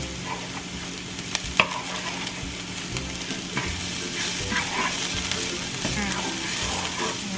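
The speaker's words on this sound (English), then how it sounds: "we can go ahead and start browning the pork." Pork browning in a pan for a Filipino ginataan lanka dish gives a steady, close sizzle, with stirring clatter and a few sharp utensil knocks over the frying hiss.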